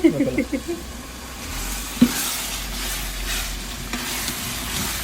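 Onions frying for biryani in a hot pan, a steady close sizzle with a few sharp scrapes of stirring near the start and one louder knock midway, a low engine-like rumble underneath throughout.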